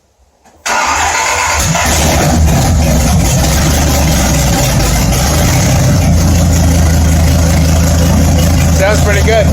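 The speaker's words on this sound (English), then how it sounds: "Starting the car up with the exhaust ripped off." 1994 Dodge Viper RT/10 with open headers and no exhaust cranks and fires up from silence into a loud, raw, rough idle that stays close and steady.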